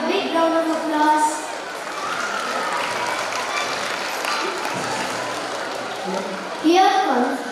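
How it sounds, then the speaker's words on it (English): Audience applause at a school annual day celebration, a broad sustained wash of clapping through most of the stretch, with children's voices and some talk mixed in and a louder burst near the end. "Can we have a big round of applause?"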